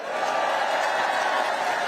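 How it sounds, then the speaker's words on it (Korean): An audience at a Korean political talk event applauds in a dense, continuous wash of clapping, steady and fairly loud throughout. "박수 한번 보내주십시오."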